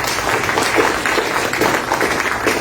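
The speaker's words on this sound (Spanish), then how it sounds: "Fuertes palmas para..." Audience applause fills a lecture hall after a talk on Peruvian international trade, with steady, dense clapping sustained throughout at moderate loudness.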